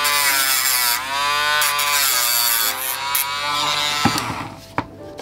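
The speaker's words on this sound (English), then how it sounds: "What's always good to do is to clean up the edges. So what I do is with the Dremel is" Handheld Dremel rotary tool grinding and cleaning the edges of OO narrow gauge model railway track, a high buzzing whine that rises and dips in pitch as it meets the rail, with a couple of sharp clicks near the end.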